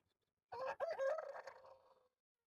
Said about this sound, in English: Y'all hear that rooster next door?